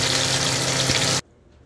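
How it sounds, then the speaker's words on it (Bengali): Loud, dense crackling sizzle of fish frying in a pan, close up, cutting off abruptly to near silence. "মাছটা ভাজা হচ্ছে"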